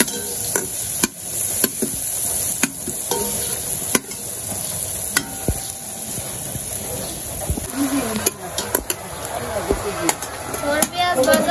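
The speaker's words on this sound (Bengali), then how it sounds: "পেঁয়াজ ভাজা হয়ে গেছে" Onions frying in a pan for a home vegetable curry, a soft steady sizzle broken by repeated scraping and clattering stirs, with voices talking quietly in the background.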